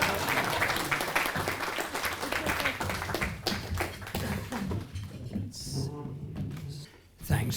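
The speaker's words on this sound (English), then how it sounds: "And keep clapping while I do the logistics." Lecture-hall applause at the Henry George Address keeps going as the speaker takes the stage, loud and dense at first, then thinning out while a voice comes in over the fading claps.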